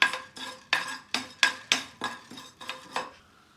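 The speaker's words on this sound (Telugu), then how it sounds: "1 అర స్పూను జీలకర్ర వేసేసి వేయించుకుందామండి. సిమ్లో పెట్టి వేయించుకోండి దోరగా." Coriander, mustard and cumin seeds roasting in a pan on low heat, stirred in a run of about ten sharp metallic scrapes and clinks at a steady rhythm, close and alone.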